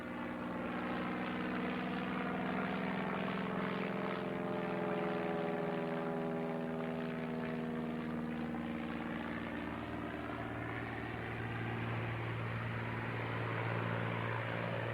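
An agricultural aircraft at an air display makes a slow, low pass coming in to land, its propeller engine droning steadily and shifting in pitch as it passes, loud and continuous for the whole stretch.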